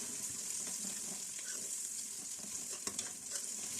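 Tomatoes going into frying onions in a karahi, a steady close sizzle with stirring and a few soft clinks, no talk.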